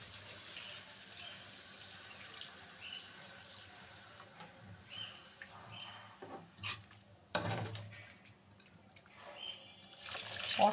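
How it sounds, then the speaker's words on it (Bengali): Water is poured into a pan after frying in a home kitchen, a faint splash and bubbling with a stronger gush near the middle and a rise at the end. "ভাজা শেষ, এ পর্যায়ে আমি এখন একটু পানি দিয়ে দেব।"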